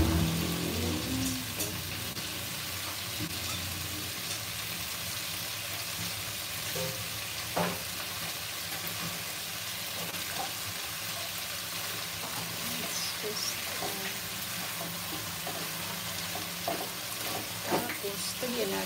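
Chicken with banana sizzles in a pan while a utensil stirs and scrapes it, giving a steady frying hiss broken by scattered clinks and scrapes.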